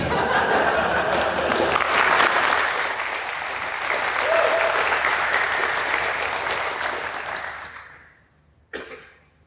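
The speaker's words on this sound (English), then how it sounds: "let's have another round of applause for our speaker." An audience applauds a speaker at a talk with sustained, dense clapping, steady for about eight seconds before fading out, followed by a brief cough or murmur.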